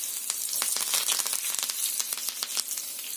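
Curry leaves crackle and sizzle in hot oil with mustard seeds, a busy close spatter of sharp pops over a continuous hiss.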